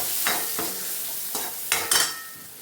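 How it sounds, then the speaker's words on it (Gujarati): Garam masala and red chilli powder are stirred into hot frying oil for a Kathiawadi sev tameta curry, giving a low, close sizzle with a few quick spoon-scraping strokes. "થોડોક જલારામ ગરમ મસાલો, 1 ચમચી જેવું લાલ કોરું મરચું। મિક્સ કરી લઈએ આપણે"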